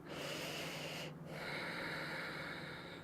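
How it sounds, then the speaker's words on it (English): A steady, hissing ujjayi yoga breath drawn through a constricted throat, continuous and close, with one short pause before the rasping airflow resumes. "Make sure you get that nice constriction in the back of the throat, the ujjayi breathing."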